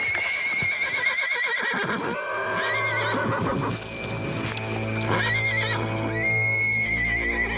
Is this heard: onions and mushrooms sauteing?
no